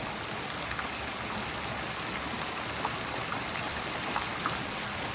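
Pool deck jets spray water onto a backyard pool, producing a steady, moderately faint splashing hiss like light rain on water, continuous and even for the whole stretch with no voices.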